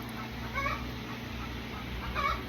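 Backyard hens, silkie chickens among them, cluck softly and intermittently against a steady low background hum.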